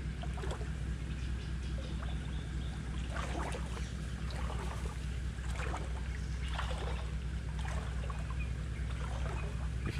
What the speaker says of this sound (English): I can hear a little waterfall or rapids or something over there too